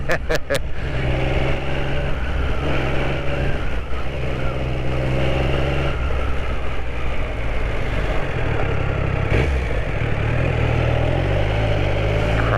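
A Triumph Sprint 900 motorcycle runs on the road, its engine a loud steady drone with rising and falling revs and wind rush, a voice mixed in over it.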